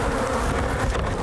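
Bees being removed from a hive inside a house wall, a dense, loud swarm buzz filling the whole moment up close.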